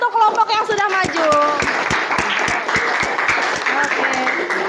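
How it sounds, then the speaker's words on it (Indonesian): Classroom applause for a group that has just presented, a steady run of claps from many hands lasting several seconds, close and lively, with voices talking and calling out over it. "kasih tepuk tangan untuk kelompok yang sudah maju"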